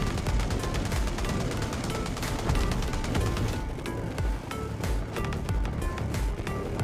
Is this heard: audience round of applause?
no